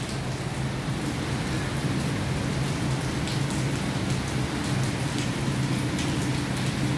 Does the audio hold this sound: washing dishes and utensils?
no